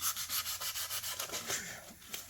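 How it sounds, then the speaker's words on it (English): Rhythmic hand sanding strokes rasp steadily against soft aluminum on a 1972 Dodge truck, close up, with short repeated back-and-forth scrapes and no talking. "You're hand sanding."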